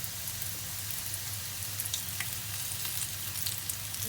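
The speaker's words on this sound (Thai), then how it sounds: "จะทอดเรื่อยๆเด้อจ้าเด้อไปจนสุก" Quail egg wontons fry in hot oil, a steady dense sizzle and crackle with faint occasional pops, continuous and close throughout.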